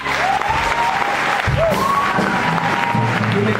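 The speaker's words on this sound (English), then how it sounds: "Just clap for the Lord." A church congregation claps during a worship service, sustained dense applause with some cheering and a voice carrying over it.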